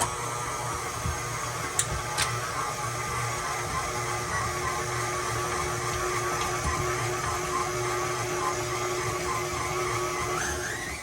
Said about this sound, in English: I have stopped the mixer so I can show you.